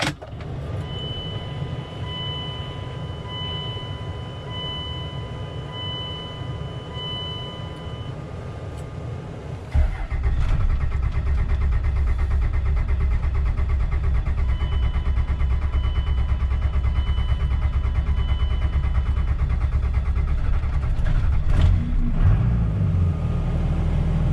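A 2001 Cummins diesel truck idles steadily, then the engine note rises abruptly as it pulls away and drives, producing a constant loud rumble with no talking.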